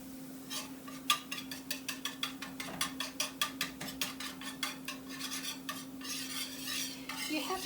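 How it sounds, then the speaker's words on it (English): A spoon scrapes rhythmically around a pan of gravy over a flame, repeated quick strokes over a soft steady sizzle and a faint background hum. "you can hear it sizzling"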